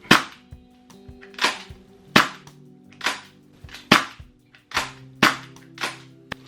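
A Tokyo Marui M4 MWS airsoft rifle with an HPA gas-blowback conversion and a silencer fires about nine muffled, snappy shots at fairly even intervals, close by, with no talking.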